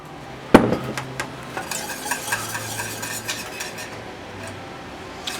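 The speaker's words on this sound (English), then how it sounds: "I'm going to cook this about 2 more minutes, and I'm going to stir it constantly" A spoon scrapes and clinks against a pot of thick banana pudding, opening with one sharp knock, then a run of soft irregular scraping taps with a faint sizzle underneath.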